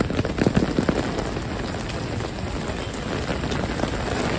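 Heavy rain pours on New York City streets during flash flooding, a dense, steady hiss of drops on surfaces, fairly close and continuous, with a few louder splashes early on and no talking.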